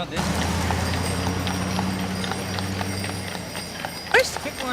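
Hooves of a 14-year-old Belgian draft and Newfoundland pony cross horse clip-clop at a steady walking rhythm under a constant low engine-like hum, with a brief squeal near the end.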